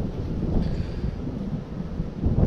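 Wind buffets a microphone on the bank of the River Nene at Nassington, a steady, loud low rumble that fills the whole stretch with no voices.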